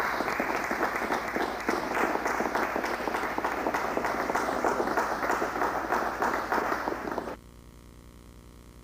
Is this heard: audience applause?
yes